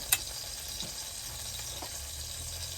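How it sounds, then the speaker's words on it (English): Butter melting in a hot pan gives a steady, quiet sizzle and frying hiss, with a faint tick or tap near the start and a few soft clinks throughout. "Just melt a little bit of butter in here."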